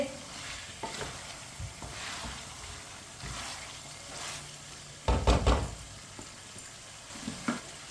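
Chicken browning in a pan for several minutes, stirred with a spoon: a low, quiet sizzle with a louder burst of scraping and clatter midway, then faint sizzling again.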